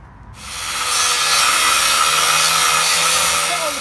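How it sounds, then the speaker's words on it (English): A 9-inch angle grinder fitted with a metal cutting blade slices through steel for a garden room base, a loud, steady broadband whine that spins up quickly and holds without a break. "We're now going to cut the steel with this 9-inch grinder with the metal cutting blade."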